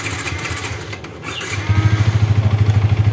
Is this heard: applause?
no